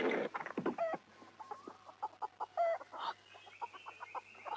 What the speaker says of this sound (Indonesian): Bukankah itu seekor ayam hitam yang sedang aku cari?